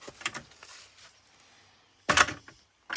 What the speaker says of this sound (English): We shut our door.